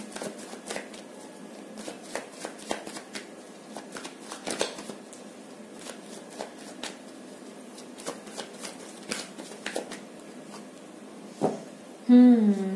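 A deck of tarot cards is shuffled up close in repeated soft riffles and flicks, followed by a short burst of a voice at the very end.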